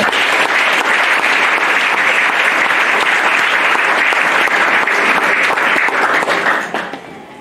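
Sustained, loud applause from a church congregation acclaiming the Lord, dense steady clapping filling the room for about six and a half seconds before fading out at the end.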